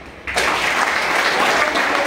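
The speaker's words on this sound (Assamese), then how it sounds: "হাত তালি মাৰ" After a brief quiet moment, an audience at a network marketing seminar breaks into loud, dense clapping that continues evenly to the end.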